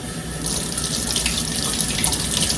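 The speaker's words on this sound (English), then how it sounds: "with my chicken, I do put just a little bit of water in the bottom of the pan" A tap runs water into a roasting pan holding a seasoned chicken before it goes into the oven, a loud steady gushing stream that continues without a break.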